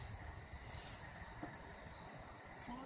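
A Sobu Line Rapid service train runs along, heard from inside a green car as a faint, low, continuous rumble with steady rolling noise and occasional soft squeals.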